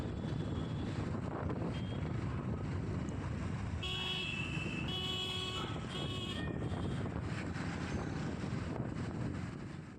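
A motorbike carrying two riders cruises along a city road, its steady engine drone and rushing wind noise filling the whole stretch, with a brief horn-like tone around the middle and no talking.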